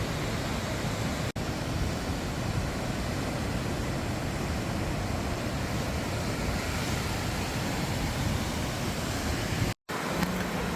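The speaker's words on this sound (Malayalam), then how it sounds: "ഇത് ഇടമലയാർ അടുത്തുള്ള വടാട്ടുപാറ വെള്ളച്ചാട്ടമാണ്." Vadattupara waterfall near Idamalayar pours in a continuous, dense roar of rushing water that stays loud and even throughout, interrupted only by two brief dropouts.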